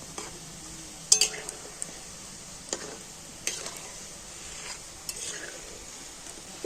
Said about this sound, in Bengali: পিঠেগুলো ভাজার সময় তো উনুনের জাল একটু হালকা দিয়ে তো পিঠেগুলোকে সুন্দর করে ভেজে নিতে হবে